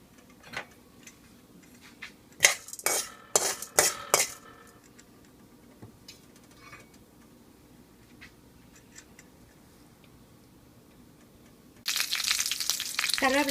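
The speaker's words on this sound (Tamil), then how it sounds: "கடலைப்பருப்பு நல்லா வெந்த பிறகு கருவேப்பிலை போட்டுக்குங்க" A tempering of mustard seeds, urad dal and curry leaves in hot oil: a burst of sharp crackling pops early on, quieter ticking spatters through the middle, then a loud sustained sizzle as leaves hit the oil near the end.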